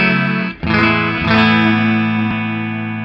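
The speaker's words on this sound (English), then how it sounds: "Hard press, red depth." Sustained guitar chords pass through an MC Systems Hybrid Chorus pedal set to its red alternate depth, giving a loud, thick, wavering chorus tone with a brief dip early on before ringing out steadily.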